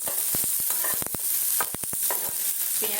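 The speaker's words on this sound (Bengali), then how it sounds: "আমি রসুন, লঙ্কা আর পেঁয়াজটাকে এইভাবে সুন্দর করে ভেজে নেব।" Garlic, chili and onion fry in a pan with a loud, continuous sizzle, broken by repeated sharp clicks and knocks from stirring.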